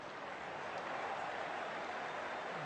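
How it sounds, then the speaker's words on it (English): Home crowd cheering in the cricket video game Cricket 2002 during an Australia versus England test match, a steady, dense wash of distant crowd roar that holds at an even level throughout with no voices on top. "Listen to the cheer from his home crowd here."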